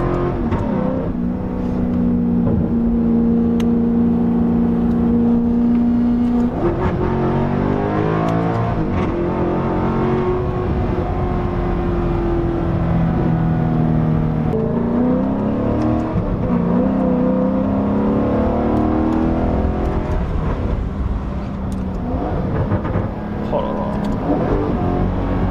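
Alfa Romeo 8C engine pulls hard through successive gear shifts, its revving drone rising and stepping down with each change, loud and continuous from start to finish, with occasional talk over it.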